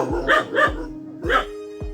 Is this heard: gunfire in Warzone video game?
no